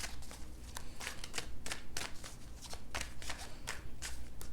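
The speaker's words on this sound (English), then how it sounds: "Let's give these a few shuffles and we will get started." Tarot cards being shuffled by hand in a steady run of crisp riffling bursts, close and fairly quiet, with no talking.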